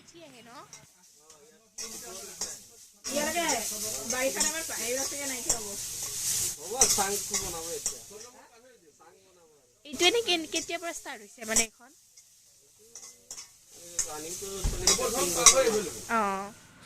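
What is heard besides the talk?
greens frying and being stirred in a pan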